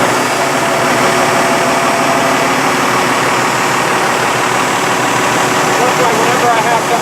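A 1971 M35A2 military truck's multi-fuel engine idles steadily, a continuous low rumble with broadband mechanical clatter heard close up at an outdoor car club meet, holding an even level throughout.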